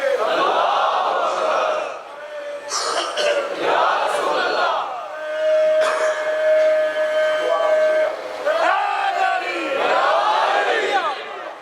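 A large religious gathering at an imambargah during Muharram chants the Nara-e-Takbeer slogan, with loud voices in sustained call-and-response swells rising and falling across the crowd.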